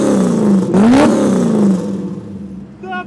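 A Porsche 928 engine with racing headers and a custom exhaust revs hard with a loud, raspy roar that climbs and falls, then settles to a lower rumble.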